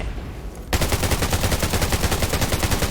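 Rapid automatic gunfire in the video game Undawn, a loud continuous burst of evenly spaced shots starting after a brief quieter moment.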